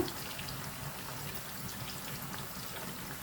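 Rain and wind outside during a wet spell in Chennai: a steady, fairly soft broadband hiss of falling rain that stays even throughout, with no voices.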